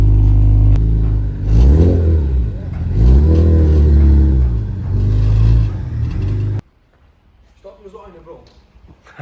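A BMW E36 M3 engine rises and falls in pitch through several accelerating pulls while driving, heard loud from inside the car with people talking over it, before cutting to near silence.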